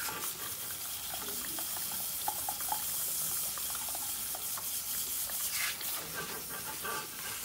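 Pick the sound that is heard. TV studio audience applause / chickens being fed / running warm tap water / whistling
running warm tap water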